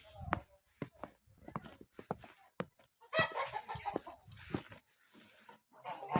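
Domestic geese honk and cackle in short bursts, fairly close in snow, several birds calling over one another with brief pauses.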